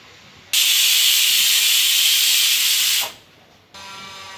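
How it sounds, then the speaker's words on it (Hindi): Loud, steady hiss of steam venting from a pressure cooker whistle while cooking apple gourd and potatoes, for a few seconds, cutting off abruptly, then a softer hiss resumes. "ये कुकर में 2 सीटी लग गई है"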